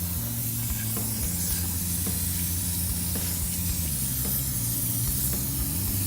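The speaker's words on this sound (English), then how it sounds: "Give this wheel a little rinse." A hose sprays water onto a Jeep Wrangler wheel, a loud, constant close-up hiss of spray lasting several seconds, with a low engine-like hum underneath and no voices.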